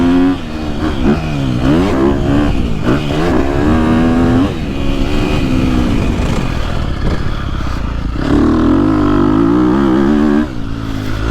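A KTM 250SXF or 350SXF four-stroke dirt bike with stock suspension is ridden hard: its loud, close engine rises and falls through repeated revving and throttle roll-ons, with a brief dip near the end and no talking.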